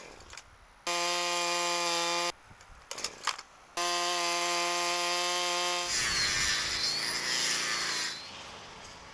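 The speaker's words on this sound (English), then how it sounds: "the guy who carves manatees from tree trunks with a chainsaw" A chainsaw carves manatee figures from tree trunks, its engine holding a loud, steady buzzing pitch in two long runs broken by a short sputtering pause, then giving way to rough cutting noise into wood.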